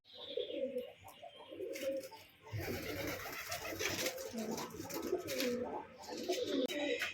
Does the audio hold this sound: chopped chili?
no